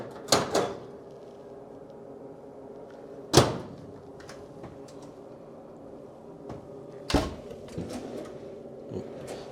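A few sharp clicks and thuds of a hotel room microwave door being opened and shut, spaced apart, with a low steady hum underneath.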